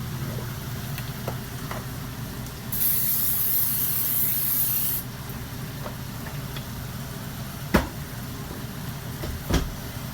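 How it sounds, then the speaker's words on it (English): A short, steady hiss of cooking spray coats a 9x12 casserole dish in an RV kitchen, lasting about two seconds amid low background hum and a couple of faint knocks. "spray it down with cooking spray"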